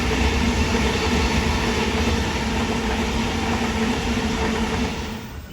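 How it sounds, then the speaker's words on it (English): A Sydney Trains H set Oscar outer suburban train rolls past at Petersham with a loud, continuous rumble of wheels and rail, fading slightly as it clears. "Next up is the H set, more commonly known as the Oscar train."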